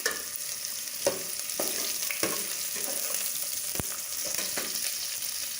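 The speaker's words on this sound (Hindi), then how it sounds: "आपने 2 से 3 मिनट के लिए प्याज को अच्छी तरह ब्राउन कर लेना है" Onions sizzle steadily in frying masala for a potato samosa filling, with the occasional scrape of stirring over the constant close crackle.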